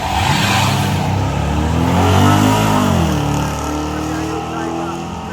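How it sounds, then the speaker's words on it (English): Holden cars, including a Holden Colorado and a Holden HQ station wagon, drag racing at Warwick Dragway: a loud engine roar rising in pitch under acceleration, swelling then fading as they pass, with a commentator talking over it. "He's the slower car in his lane, lining up against the Holden HQ or station wagon of Lee Jensen."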